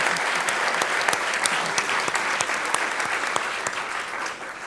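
Applause at a gala dinner for the executive chef: a dense, sustained round of clapping from a large seated crowd, close and loud, with individual claps popping through.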